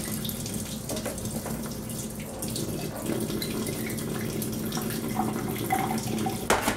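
An Enagic Kangen water ionizer dispenses alkaline and acidic water as a steady running stream, close and moderately quiet, splashing into a container with small clinks, and no voices over it.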